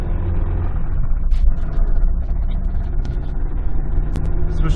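A Toyota Celica engine with damaged bearings runs steadily, its loud low rumble and dense engine drone continuous throughout, with no voices over it.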